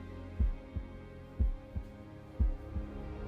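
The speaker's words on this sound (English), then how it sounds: "that's her heartbeat and his heartbeat probably playing in the background" A slow heartbeat thumps under a low hum in the background of Daredevil: Born Again, three deep lub-dub pairs evenly spaced, each strong beat followed by a softer one.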